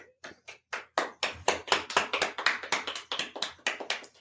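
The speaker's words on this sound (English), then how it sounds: "I figured I'd give an actual clap to that" One person claps their hands alone, close by, a steady run of about fifteen sharp claps with no talking.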